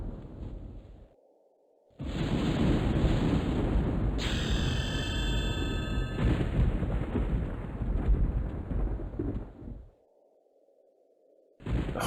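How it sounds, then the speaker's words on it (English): Thunderstorm in the video game EverQuest: a deep, sustained rumbling roar of thunder and rain that rises sharply and holds loud for several seconds before cutting off, with a short burst returning at the end. "I always like the thunderstorms here."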